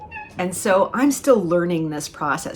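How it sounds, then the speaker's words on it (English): A nine-month-old kitten meows faintly in the background while a person talks over it in the foreground. "sometimes you might hear a cat in the background because I have a kitten who's just 9 months old"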